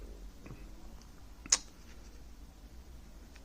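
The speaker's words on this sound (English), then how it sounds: "clicker tension knob," A single sharp click from the clicker tension knob on a budget BFS baitcasting fishing reel with a shallow spool, close and brief, standing alone over faint background hiss.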